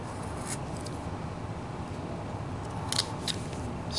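Pieces being cut away while carving a fox figure: soft, continuous close scraping and shaving with a couple of sharper clicks near the end, quiet and with no speech.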